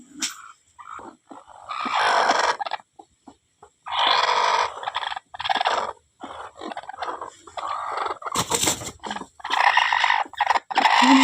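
Chickens clucking and squawking in irregular bursts, fairly close, with short pauses between calls and one sharp noisy burst midway.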